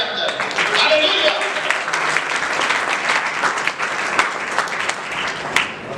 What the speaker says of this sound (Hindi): आइए उसके लिए जोरदार तालियां बजाएं।